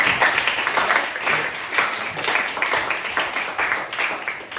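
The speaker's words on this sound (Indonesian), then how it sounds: "Berikan aplaus untuk Alto." A classroom full of students claps steadily for a classmate, a dense, bright patter of many hands sustained throughout at moderate loudness.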